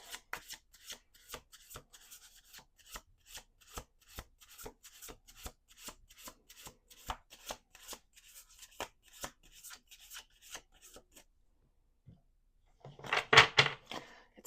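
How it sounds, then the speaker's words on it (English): Tarot cards being shuffled, a steady run of soft, close riffling flicks for about eleven seconds, then a pause and a louder burst of card handling. "We're going to do 2 more shuffles."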